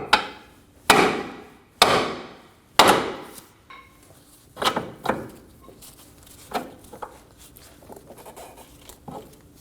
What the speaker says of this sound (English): Using a hammer, we're going to break the tension for the lower ball joint to the knuckle